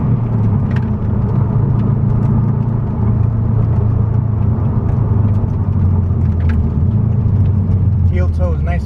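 Turbocharged engine of a bugeye Subaru WRX project car pulling hard, a loud, steady droning roar heard from inside the cabin for about nine seconds.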